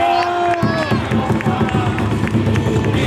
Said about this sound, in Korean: 선수들 인사하면 힘찬 격려의 박수 부탁드릴게요.